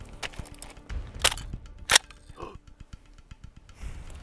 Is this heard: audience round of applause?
no